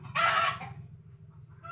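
A ten-month-old Golden Boy Sweater gamecock crows once, loud and close, in a small backyard coop, and the crow fades into a low murmur of other chickens clucking in the background.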